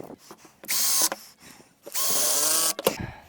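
A power driver runs in two bursts, whirring for about half a second and then nearly a second, driving screws while refitting the fuel filler neck of a first-generation Toyota Avalon, with small tool clicks and handling noises between.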